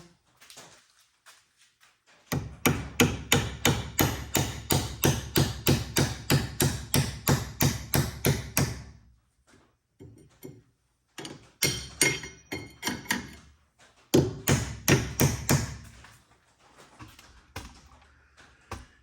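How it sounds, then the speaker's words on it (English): Rapid metallic hammer blows on a chisel during a Ford Pinto wheel hub lug conversion, a fast steady run of sharp strikes, then a pause and two more shorter bursts of hammering, close by. "Take the hammer and the chisel."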